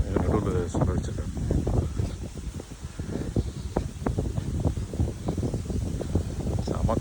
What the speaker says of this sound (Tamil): செம காற்று